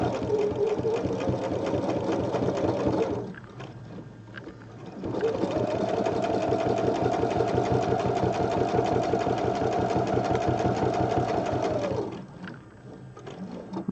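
An embroidery sewing machine stitches fabric in a steady rapid rhythm, running close and loud for about three seconds, pausing briefly, then sewing again for a long stretch before stopping.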